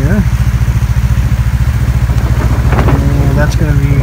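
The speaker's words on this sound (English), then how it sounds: "Just get the machine warmed up" A machine engine warming up outdoors on a snowy winter day, a loud steady close idle with a rapid even chugging pulse throughout, and a brief rise in revs near the end.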